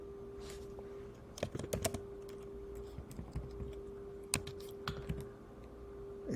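Fingers tap at a computer keyboard in short, uneven bursts while a crossword is filled in, with quiet close clicks over a faint steady hum.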